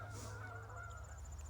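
Geese honk at a distance during a fall hunting outing, faint scattered calls over a low steady rumble of outdoor ambience.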